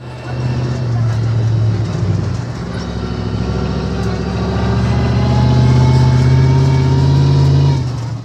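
Ride aboard a monster truck at Digger's Dungeon in Poplar Branch, North Carolina: a loud, steady engine drone close by for the whole stretch, rising and revving as the truck moves around the track and over hills.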